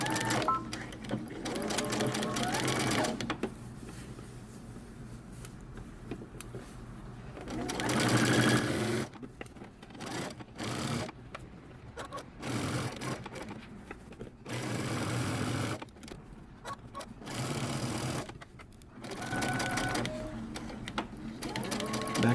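A sewing machine stitches the sleeve seam of a men's button-up shirt at a 5/8-inch seam allowance, whirring loudly and steadily in long runs broken by several short pauses, with no talking.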